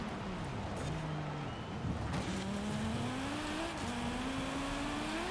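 A race car in Forza Horizon 5 drones at high revs, its engine pitch climbing steadily through gear changes with a brief tire squeal, loud and close, with faint talk underneath.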